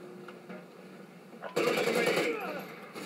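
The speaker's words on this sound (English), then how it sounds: "This Maverick's got some power to it, man a powerful gun" Maverick rifle fire in a Call of Duty: Ghosts Domination match, a sudden loud burst of rapid automatic shots arriving halfway through after quieter game ambience, with talk faintly underneath.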